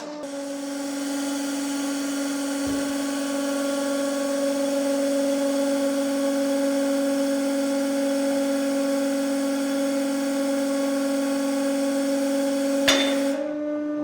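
A hydraulic press crushing bones gives off a steady mechanical drone with a constant pitch for the whole stretch. Two sharp clicks break through, one early and one near the end.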